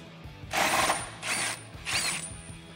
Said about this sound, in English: remove this body bolt with an 18 millimeter socket